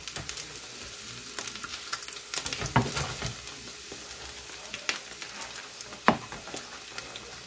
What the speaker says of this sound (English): put the hamburger patty on here, and then I'm going to throw the egg right on top of that